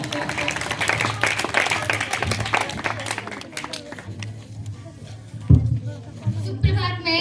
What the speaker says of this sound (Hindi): इस बच्चे के लिए जोरदार तालियां।